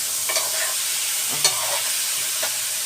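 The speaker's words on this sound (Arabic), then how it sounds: "هي كده كده تتحمر اهي، شايفين بتتحمر اهي" Zucchini fries in hot oil with a continuous hissing sizzle, broken by a few sharp stirring scrapes and clatters close by.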